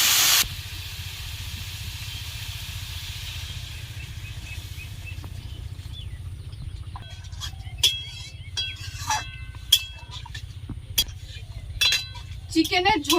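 Water poured into a hot pan of browned chicken sets off a sudden loud burst of sizzling that settles into a steady hiss, followed by scattered clinks of utensils.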